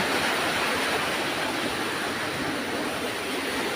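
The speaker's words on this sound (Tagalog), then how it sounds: "Pumupunta yung tubig dito" Heavy rushing floodwater pours into a house during a storm, roaring steadily and loudly, a broad continuous wash of noise like a torrent pouring nearby.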